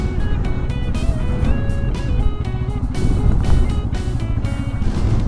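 Heavy road traffic on the route from Rameswaram to Dhanushkodi, India: continuous loud engine rumble close by, with horn-like tones and passing vehicles layered throughout.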